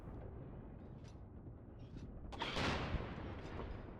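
A tank cannon fires in the WW2 game Mius Front, one sharp boom with a trailing rumble cutting through a quiet, muffled background of distant battle noise.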